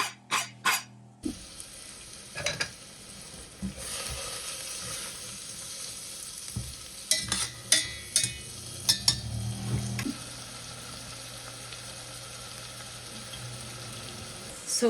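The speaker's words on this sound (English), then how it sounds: "I'm just going to saute this celery with the onions." Celery and onions sauté in a pan with a soft, steady sizzle, broken by several sharp clinks and scrapes of stirring and a running tap nearby.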